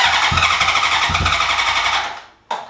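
Close, loud running of a 2003 Honda CBR600RR engine revived after 18 years, a steady rough idle with slight rhythmic pulsing that dies away, then a short sharp burst as it fires again.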